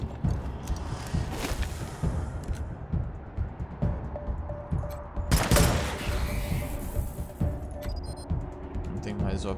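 Gunfire in the video game Wasteland 3, several bursts of shots and impacts, loudest near the middle, under a man's speech with footstep-like game sounds.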